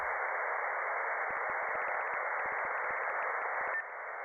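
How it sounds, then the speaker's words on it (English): White noise patch in the Serum 2 synthesizer, a steady band-limited hiss with a subtle stepped texture that drops slightly in level and shifts tone near the end. "just like scrolling through white noise"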